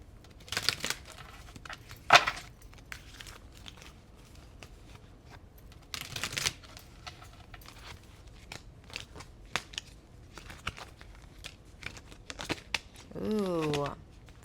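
A deck of tarot cards is shuffled by hand, giving bursts of quick papery riffling and flicking at close range, with quiet pauses between them.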